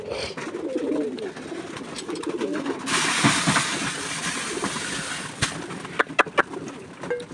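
Pigeons cooing softly near a feeding bowl, low throaty calls repeating over a background wash of noise, with a few sharp taps and knocks near the end.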